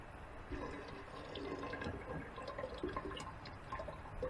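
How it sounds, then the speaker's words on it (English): Liquid pours and splashes into a container while refining silver plate, a soft gurgling trickle that is fairly quiet and close, with no talking. "Pour all the rest of this in this one."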